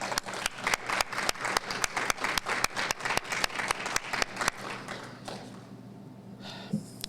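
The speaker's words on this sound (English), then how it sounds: "Just an acknowledgement and some clapping for the nominees" An audience at an employee recognition event claps for award nominees, a fairly sparse, close patter of hand claps that thins out after about four seconds, leaving quiet room noise.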